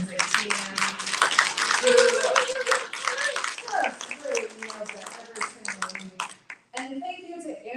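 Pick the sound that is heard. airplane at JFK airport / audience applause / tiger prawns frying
audience applause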